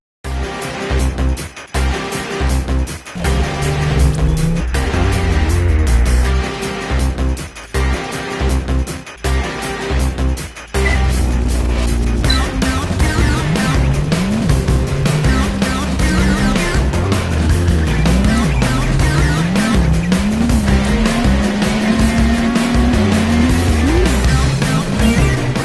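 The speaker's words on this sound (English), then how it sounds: "the first trailer that we have for you is Krautscape." Race cars from the Krautscape racing video game roar loudly and continuously, with rising and falling engine pitch sweeps and a few abrupt cuts early on, playing alone with no talk.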